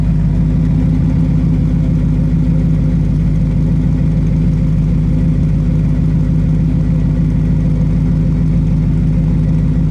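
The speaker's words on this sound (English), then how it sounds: "Let me just listen to that idle for a second." A 1957 Studebaker Golden Hawk restomod's engine idles steadily and close by, a low, even rumble with a regular pulsing beat that holds for about ten seconds.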